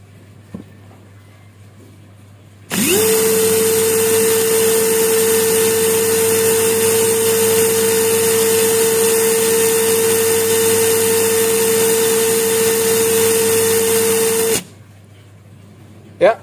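A fully charged cordless drill runs at full speed through an RPM test, giving a loud, steady motor whine that holds unbroken for about twelve seconds before cutting off abruptly, with quiet room tone before and after.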